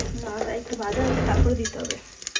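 Ginger tossed into hot oil with dried red chilli and panch phoron for khichuri, giving a steady close sizzle with stirring scrapes, under some background voice.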